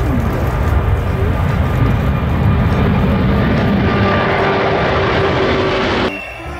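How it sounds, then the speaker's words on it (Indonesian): A toy airplane gives off a loud, steady droning hum for about six seconds before it cuts off abruptly, close to the listener and with no talk over it. "ini pesawat terbang."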